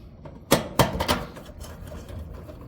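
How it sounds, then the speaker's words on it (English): Screws being taken out of a Whirlpool dryer part: two sharp metallic clicks and a short scrape, close up, then quiet handling noise with no talking. "So to remove this, again, you simply take out the screws,"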